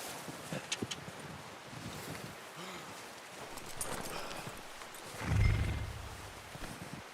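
Horse hooves clip-clop in Red Dead Redemption 2 in a quick run of beats, then the gait goes quieter, a wind-like rush swells midway, and a deep rumble comes near the end.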